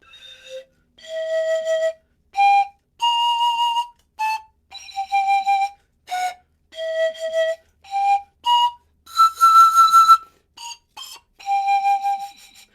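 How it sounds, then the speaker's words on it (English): Soft, breathy panpipe notes played one after another at shifting pitches, each short and airy with gaps between, forming a gentle melodic run. "These are called the panpipes."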